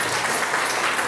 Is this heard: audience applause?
yes